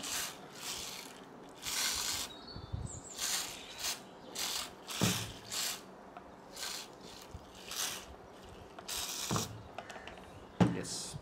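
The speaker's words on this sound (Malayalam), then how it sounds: "നന്നായിട്ട് സ്പ്രേ ചെയ്ത് കൊടുത്തിട്ടുണ്ട്" A hand spray bottle mists antifungal solution onto adenium roots in a dozen or so quick, close hissing bursts, each trigger pull separated by short pauses of near-quiet.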